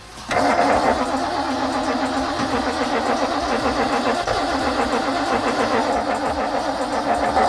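Big-block V8 in a 1964 Ford Galaxie cranking on carb cleaner, the starter whirring in a fast, even, loud, close rhythm that continues without the engine catching.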